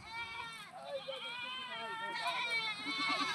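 A young goat kid, apparently of the Ajmeri breed, gives several close, wavering bleats over a few seconds, heard beneath people talking.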